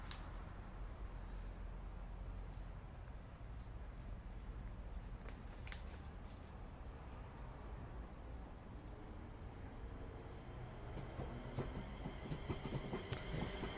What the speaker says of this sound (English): I didn't know we had another train coming in first.